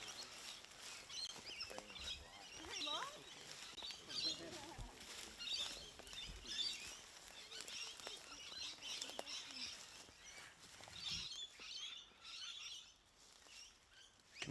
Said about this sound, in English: Can hear these birds really going at it.